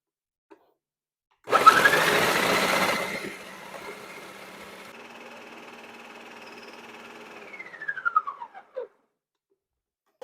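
A kitchen blender grinds and purees ingredients for a gluten-free pumpkin cheesecake, starting with a loud burst of chopping, then settling into a steady motor whir that winds down with a falling pitch near the end.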